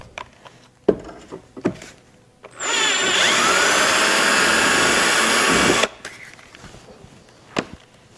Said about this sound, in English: So we'll put the bigger drill bit in the drill.